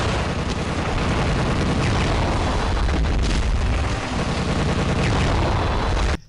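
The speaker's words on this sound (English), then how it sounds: "this part of the game also has you driving around in the world's loudest tank" A very loud tank in the Gunman Chronicles video game, with a dense roaring, rumbling engine and blasting noise that fills the whole stretch at constant high volume before cutting off abruptly.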